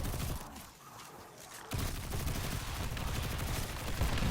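Rapid submachine gun fire in the Destiny-style shooter Hunter Presage mission, a dense, loud continuous burst of shots that drops briefly and then resumes as sustained automatic fire.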